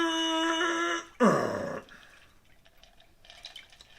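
A stirred Manhattan of rye and bourbon is strained from the mixing glass into a cocktail glass, a brief close pour of liquid after a faint clink, then quiet trickles and drips.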